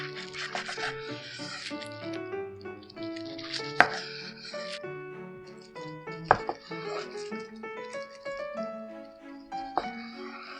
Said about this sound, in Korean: 옆을 눌러 모양을 잡아주고 썰어줍니다.